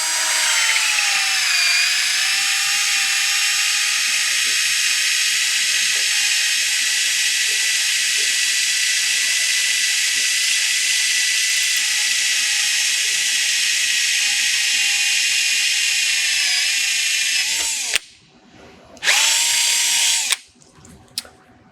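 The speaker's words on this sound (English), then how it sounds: "I'm going to go ahead and drill out the primer hole." A loud, sustained high-pitched whine of a drill boring out a primer hole in a metal cartridge case stuck in a die, steady for many seconds, then briefly stopping and restarting near the end.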